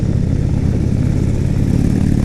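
A 2018 Indian Roadmaster motorcycle on the road, its engine giving a steady, loud low rumble mixed with wind noise, unbroken throughout and with no voices.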